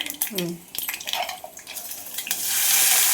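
Thinly sliced medium onions drop into hot tempering oil in a pan: a few utensil clinks and scrapes, then a loud hissing sizzle swells and holds.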